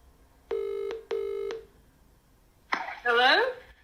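Two clear, evenly spaced phone keypad dialing tones sound close and alone, followed by a short pause and then a voice speaking.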